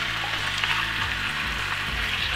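Diced chicken pieces frying with onion in a hot pan give a loud, steady sizzle that runs unbroken throughout.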